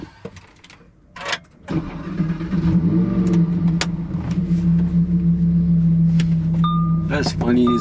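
A car engine cranks and catches after a few brief clicks and rustles, then settles into a steady idle hum with a slight rev, while people talk nearby over it.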